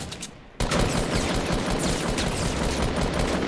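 Video game gunfire breaks out after a short quiet lead-in, a dense sustained burst of rapid automatic shots that stays loud and continuous to the end.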